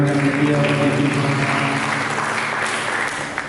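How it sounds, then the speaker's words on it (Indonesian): Congregation at a church service applauds to praise God with loud, full-room clapping that holds steady throughout, with some sustained voices or tonal hum running underneath. "Mari kita berikan tepuk tangan yang mulia bagi Tuhan"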